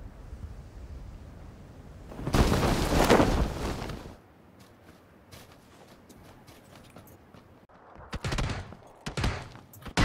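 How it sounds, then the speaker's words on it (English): Gunfire in PUBG: a dense burst of rapid shots up close, a quiet lull, then two shorter sharp volleys, with no talking. "he's shooting through walls"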